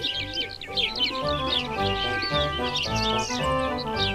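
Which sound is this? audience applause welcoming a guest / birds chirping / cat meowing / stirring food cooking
birds chirping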